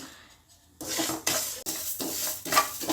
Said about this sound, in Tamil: நல்லா செவக்க வறுத்துக்கிறோம் வாசம் வர அளவுக்கு வறுத்துக்கிறோம்